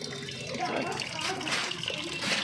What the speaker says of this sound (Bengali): গাছে একটু জল দিয়ে দিই